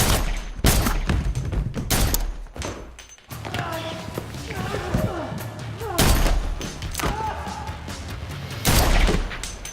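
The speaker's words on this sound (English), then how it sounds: "let's first briefly look at a firefight sequence" Gunfire from the John Wick home shootout scene, with sharp repeated shots and heavy thuds between stretches of clattering action noise, loud and close, with voices at times.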